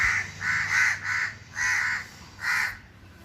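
A greater coucal calls in a series of five or six separate hoarse, cawing notes, moderately loud and spaced unevenly, over a low background hum.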